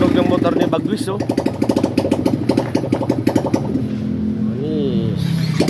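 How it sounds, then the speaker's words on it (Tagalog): A Honda ADV160 motorcycle engine idles with a steady, low hum, mostly buried under loud, excited voices talking and shouting nearby. "Yung tunog ng motor ni Bagwis oh."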